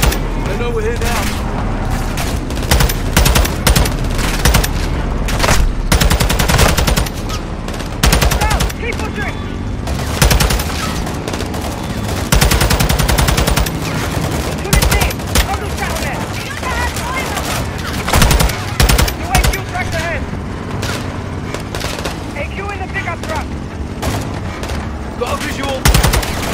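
Dense, loud gunfire from Call of Duty: Modern Warfare 2 rattles continuously, with rapid automatic bursts, heavy booms and mechanical clatter layered into a relentless battle din.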